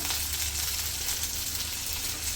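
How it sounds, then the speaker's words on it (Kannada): Whole spices (star anise, marathi moggu, cardamom, cinnamon and cloves) fry in hot oil for a veg pulao, making a steady, close, even sizzle with no talk. "ಫ್ರೈ ಮಾಡ್ಕೊಳ್ಳೋಣ. ಈಗ ಇದೆಲ್ಲ ಚೆನ್ನಾಗಿ ಕೆಂಪಗಾಗಿದೆ, ಚೆನ್ನಾಗಿ ಫ್ರೈ"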